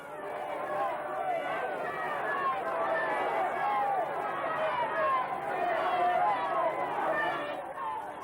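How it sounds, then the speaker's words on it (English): A large crowd stands in the street outside a Bethnal Green church in East London during the Kray funeral, giving off a dense, sustained roar of voices and cheering. "Outside the church, the crowd who have listened to the service through the loudspeakers cheer as Reg and the mourners make their way into the street"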